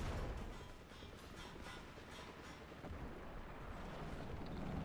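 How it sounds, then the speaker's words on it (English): Missiles pound an IS-7 heavy tank in the War Thunder video game, a continuous rumbling roar of blasts and impacts with a deep low-end boom that swells near the end, without talk. "there you can see the IS-7's taking a pounding from his missiles"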